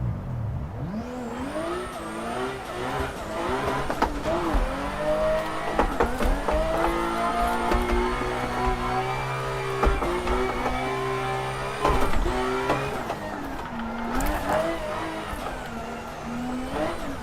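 A 400 hp Toyota JZX90 Mark II in the Assetto Corsa racing game on a track day, engine revving repeatedly with rising and falling pitch through gear changes, loud and continuous with brief tire squeal.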